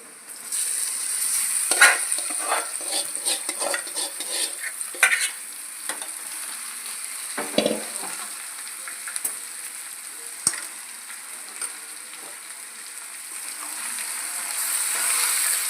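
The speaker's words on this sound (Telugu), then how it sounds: "మనం అల్లం వెల్లిపాయల పేస్ట్ అన్నీ కలిపి పట్టించాం కదా చికెన్కి, దాన్ని ఇప్పుడు కళాయిలో వేసుకోవాలి." Chicken coated in ginger-garlic paste frying in a kadai, with a steady sizzle broken by stirring scrapes and occasional sharp pops and spatters, close and fairly loud with no talking.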